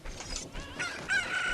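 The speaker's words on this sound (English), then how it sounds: "grab this chicken" Chicken clucking in Zelda: Ocarina of Time, a short burst of bird calls ending in a sustained squawk, fairly close over light game ambience.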